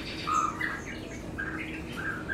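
White-rumped shama (murai batu) singing in short clear whistled phrases and chirps, several bright notes spread across the clip over a soft background hum, fairly close.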